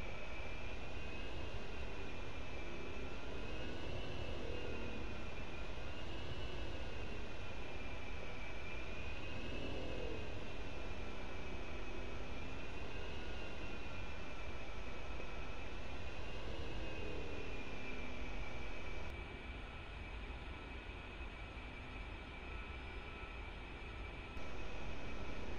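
In a flight simulator game, an aircraft coasts down a taxiway with the throttle off under a steady, continuous engine drone with a faint wavering whine that softens slightly near the end.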